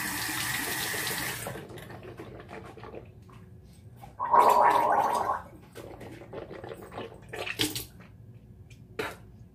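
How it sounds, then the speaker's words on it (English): Water runs from a bathroom sink tap in a steady hiss, then stops, and a close, bubbling gargle follows for about a second, trailed by quieter splashes and drips. "gargle"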